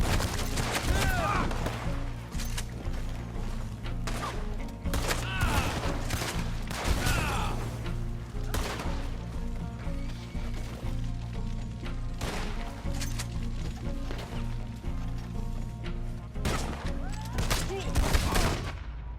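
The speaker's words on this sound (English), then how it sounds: "Trying to fucking shoot a dude. I can't." Gunfire in Red Dead Redemption 2 online, repeated sharp shots in irregular bursts and volleys throughout, some near and some distant, with someone talking at times over the shooting.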